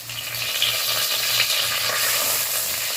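Bay leaf, cumin and onion frying in mustard oil give a steady, loud, close hiss and crackle that fills the whole moment, with a faint low hum beneath.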